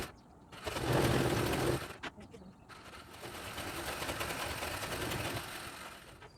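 A sewing machine stitches fabric for a pleated garment, running in a close mechanical whir. It rises loudly in one burst, pauses, then runs again more steadily and a little quieter, with talking over it.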